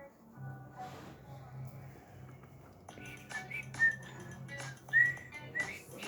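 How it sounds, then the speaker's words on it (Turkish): A person whistles a few short, rising notes in a quiet room, the whistling intermittent and moderately close over a low hum. "Siz ıslık çalmayı biliyor musunuz arkadaşlar?"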